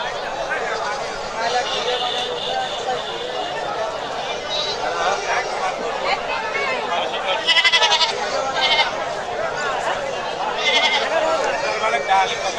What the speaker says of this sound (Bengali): খালি ছাগল আর ছাগল